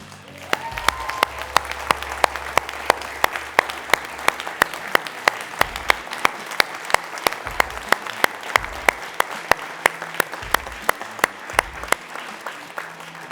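Sustained applause from an audience at a pitch competition, many hands clapping in a dense, even patter that continues for over ten seconds.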